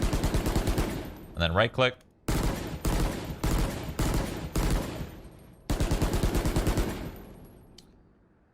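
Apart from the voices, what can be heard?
budget rifle firing in Valorant video game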